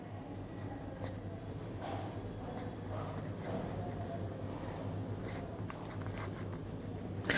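Pen writing by hand on paper during a class 12 maths lesson, in soft scratchy strokes and taps over a steady low hum, with no talk.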